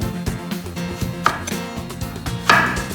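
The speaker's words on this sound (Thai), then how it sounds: "เราจะหั่นเป็น4ส่วนด้วยกัน" A knife chops quickly through a Japanese cucumber against a cutting board, a rapid run of crisp thuds with a couple of louder strikes, close and alone.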